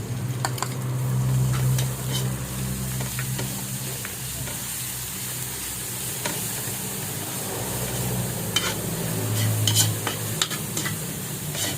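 Onion and shrimp paste sauté in a hot pan for a talbos ng sayote dish, giving a steady close sizzle with occasional stirring scrapes and clinks, no talking.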